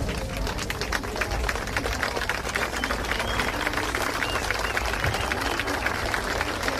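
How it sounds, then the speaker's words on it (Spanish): Wedding guests give the newlyweds a strong, sustained round of applause, the packed clapping holding at a steady level for nearly seven seconds. "Quiero pedir a los presentes un fuerte aplauso para los novios aquí presentes."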